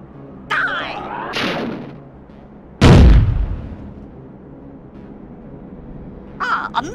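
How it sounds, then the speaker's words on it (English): In Worms Armageddon, a missile explodes with one loud, booming burst. Short whooshing and popping game effects come before it, and a faint crackle trails after. "A missile!"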